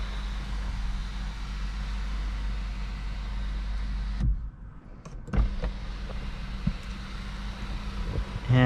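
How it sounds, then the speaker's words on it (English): Motorized sunroof on a 2017 Mazda CX-9 GLS running inside the cabin, a steady low electric hum that stops partway through, leaving a short quiet stretch broken by a few soft clunks before the hum returns. "you do have a fully powered sunroof"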